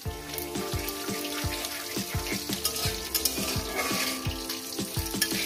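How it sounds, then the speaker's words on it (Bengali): Whole cumin seeds tempering in hot oil for a jackfruit curry give a loud, continuous crackling sizzle up close, with a steady series of soft thumps and taps from the pan running underneath. "ফোড়নটা কয়েক সেকেন্ড ভেজে নেব।"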